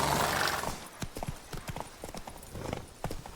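Roach the horse from The Witcher 3 galloping, a rapid three-beat clip-clop of hooves that follows a brief whooshing start and carries on at an even pace, moderately near and fairly faint.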